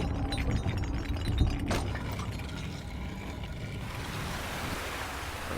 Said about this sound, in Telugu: సో ఇదైతే వాటర్ని అయితే నిండుతాను అనమాట.